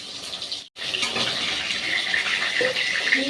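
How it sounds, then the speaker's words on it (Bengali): Water poured from a tap into a cooking pot of bottle gourd and pumpkin pieces in a home kitchen, a steady close rushing pour after a brief pause, with no talk. "এই যে লাউ কুমড়োতে সামান্য একটু জল দিয়ে দিলাম"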